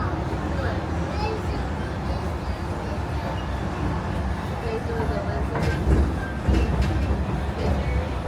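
A Disneyland Resort parking tram in operation, its steady rumbling roll and rattling carriages continuing throughout, with occasional clanks and louder surges near the end.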